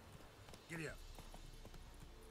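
A horse gallops in The Witcher 3, with rhythmic hoofbeats running steadily in the game while a voice gives a brief shout partway through.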